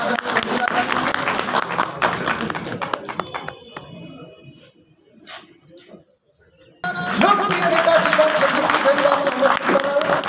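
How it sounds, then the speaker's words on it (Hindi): A rally crowd at a political gathering breaks into loud applause, dense clapping that fades to a brief lull before surging back strongly, with voices and a loudspeaker voice mixed in. "जोरदार ताली।"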